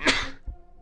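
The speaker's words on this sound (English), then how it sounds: "I do indeed need to sneeze, because I just did." A single sharp human sneeze bursts out close and loud at the start, then fades into quiet room tone with a faint soft thump afterward, heard during a session of the Star Wars Jedi Academy game.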